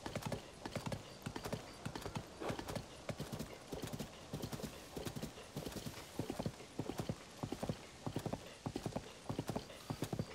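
Horse hooves clip-clop steadily along a road in the video game The Legend of Zelda: Tears of the Kingdom, a brisk continuous trotting rhythm at moderate volume with faint background sound.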